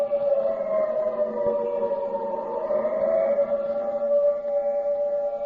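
A steady, wailing air raid siren holds one sustained tone throughout, loud and unbroken, with a slight swell in the middle.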